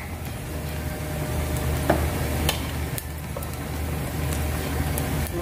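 Evaporated milk pours into a sizzling pan for tuna carbonara, giving a steady frying hiss with occasional clicks and stirring scrapes throughout.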